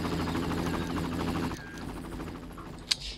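A helicopter's rotor thumps in rapid pulses in the Far Cry video game, loud for about a second and a half, then drops off to a quieter background with a sharp single crack near the end.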